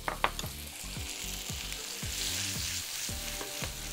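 Butter sizzles loudly in a pan alongside veal liver, a dense close-up crackle with a few clinks and scrapes of utensils at the start, and no voices.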